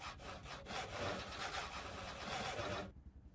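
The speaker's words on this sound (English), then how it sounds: "I am just going to keep sawing these logs" Logs being sawn in the Project Zomboid survival game, a steady back-and-forth rasp of saw strokes on wood, close and continuous before stopping abruptly.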